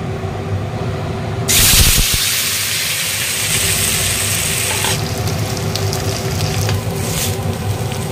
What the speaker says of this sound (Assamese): ঢাকন নিদিয়াকৈ এনেকৈ লৰাই থাকিব